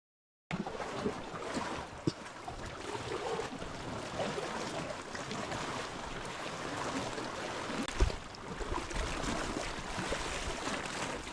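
Waves washing in along a rocky Philippine shoreline where starfish and octopus lie in the shallows, a steady moderate surf wash with wind on the microphone and a sharper splash near the middle, no voices.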